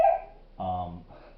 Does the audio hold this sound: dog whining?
yes